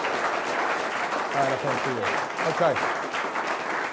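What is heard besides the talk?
audience applause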